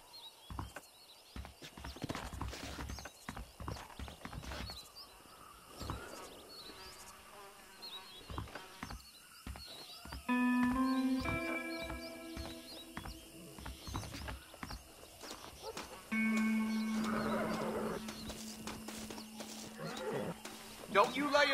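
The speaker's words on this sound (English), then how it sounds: "Don't you lay a finger on them horses, mister. Get away from them horses." Horses in the Western video game Red Dead Redemption whinny in two drawn-out bursts with scattered hoof clops, all over a steady buzz of insects, with people talking throughout.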